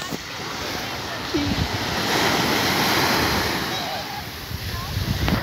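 Waves break on a beach at Caraguatatuba, Brazil, a broad steady roar of surf that swells and recedes, close and loud, with faint voices in the background.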